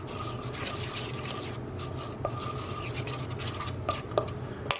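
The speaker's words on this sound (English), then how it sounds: "I'm going to add in a teaspoon of unsweetened cocoa powder. We'll just stir that through as well" A spoon stirs a teaspoon of unsweetened cocoa powder into a warm chocolate mousse mixture, making soft continuous scraping and swishing with a few light clinks against the bowl.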